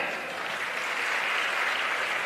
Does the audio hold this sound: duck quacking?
no